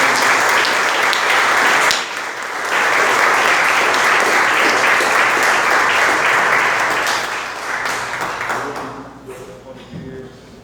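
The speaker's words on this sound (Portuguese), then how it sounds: "As palmas louvam e agradecem." Congregation applause fills a church worship service, loud and steady clapping that dips briefly near two seconds, then swells again before fading out at the end.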